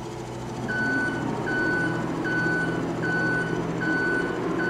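An electric telehandler in Farming Simulator 22 reverses, its backup alarm beeping steadily about once every 0.8 seconds over a low continuous motor drone, fairly close and with no talk.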